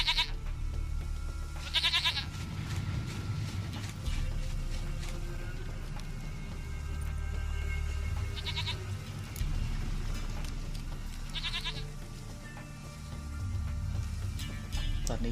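Repeated goat bleats in The Witcher 3: Wild Hunt, three or four wavering cries spaced several seconds apart over a steady low ambient rumble, fairly close and clear, with no voices.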